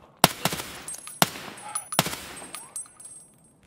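Gunfire in the shooter game Escape from Tarkov: several sharp, loud shots in quick bursts with ringing tails, spaced about a second apart, then fainter echoing shots fading out.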